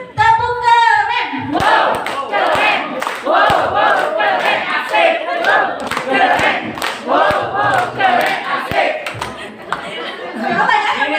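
A crowd of adults at an Indonesian gathering joins a rhythmic clap chant, sharp unison claps spaced through loud shouted and chanted voices, with some laughter and chatter.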